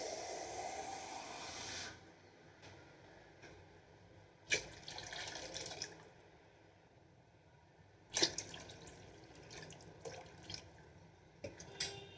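Water pours and hisses into a container for a couple of seconds, followed by quieter dripping and a few sharp clinks of kitchenware.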